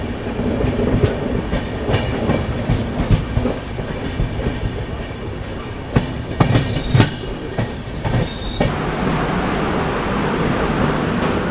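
A Humsafar Express passenger train rolls into Pune Junction, heard from on board: rhythmic wheel clatter over rail joints, brief metallic squeals and clunks, and a steady rumble, all fairly loud and close without speech.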